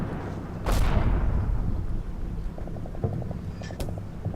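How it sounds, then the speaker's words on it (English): German mortar fire in Combat Mission Final Blitzkrieg: a single deep boom with a long rumbling tail, followed by faint tonal beeps and another sharp crack later on. "German mortar right here."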